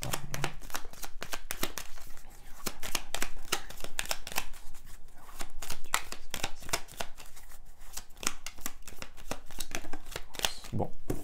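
Playing cards are shuffled over and over, a rapid run of crisp, close flicks and riffles in an uneven rhythm that continues throughout.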